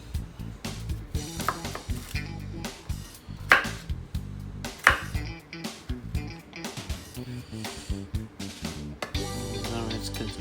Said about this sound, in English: I'm just going to continue chopping up the remaining of my things